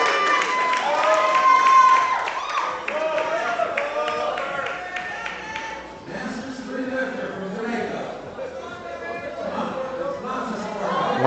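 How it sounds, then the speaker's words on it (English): A crowd at a powerlifting championship claps and cheers steadily behind a lifter, a continuous roar of applause and shouting that swells and dips over several seconds, with voices mixed in throughout. "We got the crowd behind him."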